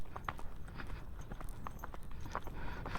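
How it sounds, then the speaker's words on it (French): Pony hooves clip-clopping along a trail in a steady walking rhythm of close, distinct knocks, with faint background noise and no clear speech. "Et il te trace le petit poney."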